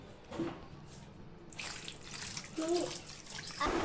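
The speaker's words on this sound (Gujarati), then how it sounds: "હવે આમાં થોડુંક નાખશું ટાઢું પાણી" Cold water poured onto boiled potatoes in a vessel in short splashy bursts, fairly faint, with a brief pause between pours and a voice speaking softly in between.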